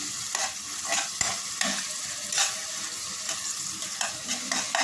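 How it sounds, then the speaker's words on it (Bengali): Cumin and coriander powder frying in oil for a koi fish curry, a steady close sizzle with soft rhythmic stirring scrapes in the pan. "এখন আমি একটা মিক্সড করে নেব এটা যাতে একটু ভাজা ভাজা হয়"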